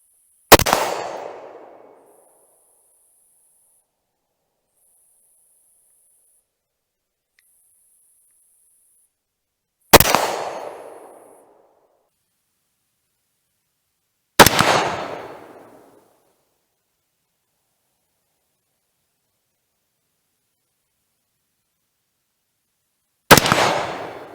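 Four sharp rifle reports at a target range, spaced several seconds apart, each a loud crack with a short decaying echo, separated by near silence.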